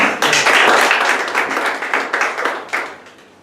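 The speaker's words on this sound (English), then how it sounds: "you deserve a big round of applause" Applause from a Toastmasters meeting audience, a dense burst of many hands clapping at once that peaks early, then thins into scattered separate claps and fades out.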